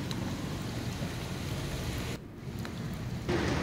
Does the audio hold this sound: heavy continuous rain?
yes